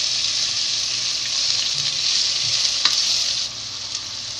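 Onions frying in hot oil with cumin, bay leaf and broken chilli for a paneer mawa curry, a bright continuous hiss that eases slightly near the end, with a faint tap of a utensil and no talking.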